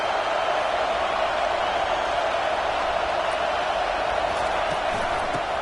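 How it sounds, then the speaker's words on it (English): Football stadium crowd roaring at the offense, a dense, unbroken wall of noise at constant loudness with no distinct voices standing out. "This crowd trying to make life miserable for this offense."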